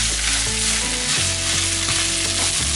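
Kimchi fries in a wok with a loud, dense, hissing sizzle. A spoon stirs through it with repeated scrapes and clatter, close up and with no talking.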